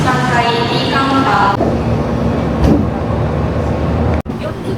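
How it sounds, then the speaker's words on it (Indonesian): Interior of a Meitetsu train heading to Nagoya, with a loud, steady rumble of carriage and track noise, a whining motor tone that rises and fades, and a sharp clunk near the end. "kita sudah di dalam kereta menuju kota Nagoya"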